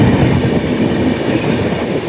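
A Rajdhani Express train rolling along the rails, a loud, dense rumble of wheels and carriage noise heard from close by, steady throughout with a faint high squeal near the start, no voices.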